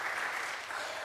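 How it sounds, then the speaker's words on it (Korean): A church congregation applauds together at a Sunday worship service, welcoming returning visitors with dense, steady clapping that fills the whole moment. "우리 박수로 환영하겠습니다"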